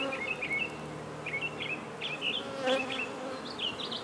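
A honey bee swarm buzzes around an 8-frame hive, a close, continuous insect drone with many individual bees flying past, and faint chirps above it.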